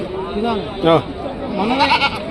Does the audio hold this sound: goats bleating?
yes